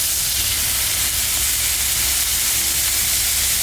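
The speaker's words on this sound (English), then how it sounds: "The sound of steak sizzling." Steak sizzling on a grill, a steady broadband hiss and crackle holding evenly at moderate loudness throughout, with no talk over it.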